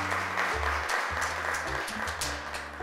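Studio audience at a children's television talk show applauding steadily for almost three seconds, fairly soft, with a musical bed playing underneath.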